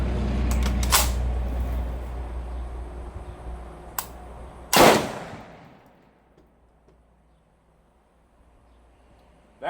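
An M1 Garand rifle fires with slow-burning powder and a greased operating rod on the seventh round, giving one sharp, loud report followed by metallic clatter that fades into quiet when the round fails to extract.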